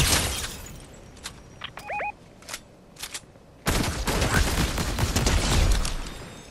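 Gunfire erupts in a video game shootout, with scattered sharp shots and brief bursts early on, then a dense sustained fusillade of rapid fire and crackling impacts in the last half.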